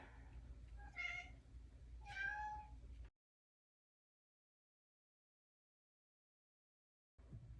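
A cat meows twice in quick succession, close and clear, before the sound cuts to silence and faint room noise returns at the end.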